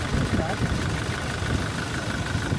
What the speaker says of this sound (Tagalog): pwede ko na ngayon start itong makina para matesting ko na yan